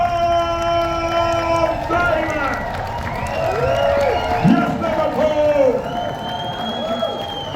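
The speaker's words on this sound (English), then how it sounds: "Stop your feet. Clap your hands and go crazy like only Liverpool can." Liverpool crowd at a live comedy show going wild, a loud continuous roar of cheering, whooping and clapping with stamping feet, mixed with shouting voices throughout.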